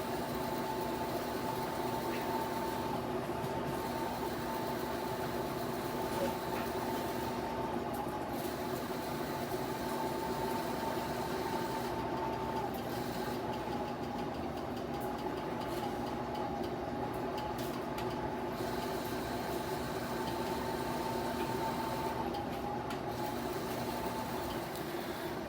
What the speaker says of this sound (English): this is the sound of a convection fan going out